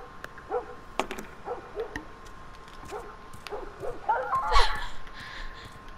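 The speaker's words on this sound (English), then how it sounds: "Yeah, that dog is definitely dead." A dog barks in the video game The Last of Us, a series of sharp yips and barks at moderate distance, spaced irregularly among game ambience.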